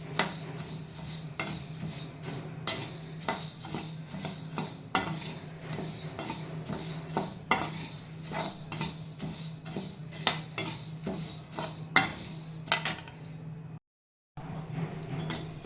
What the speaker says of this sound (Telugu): ఫస్ట్ ధనియాలు వేయించుకుంటున్నాను. మీడియం సెగలో వేసుకొని వేయించుకుంటే చక్కగా కమ్మన వాసన వస్తాయండి.